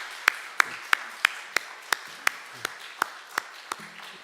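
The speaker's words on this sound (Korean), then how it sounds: "우리 박수를 한번 크게 격려했으면 참 좋겠습니다." Rhythmic unison clapping from a church congregation during a Sunday service, about a dozen sharp, evenly spaced claps at a steady beat over a faint background.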